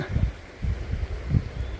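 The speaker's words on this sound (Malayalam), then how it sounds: "കടലിൻ്റെ വക്കത്തായ കാരനെ നല്ല തണുത്ത കാറ്റടിക്കുന്നുണ്ട്" Cold, gusty sea wind at Kannur Fort buffets the microphone in low, rumbling bursts, rising and fading several times in the open air.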